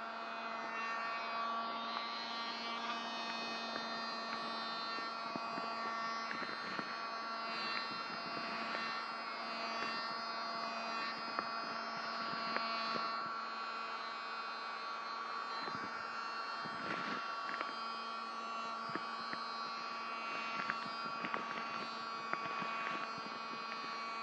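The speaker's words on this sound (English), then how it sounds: "Like I'm vacuuming your face." A mini vacuum hums steadily and close in a binaural ASMR role play, a continuous buzzy drone with a constant pitch and small fluctuations, and no talking over it.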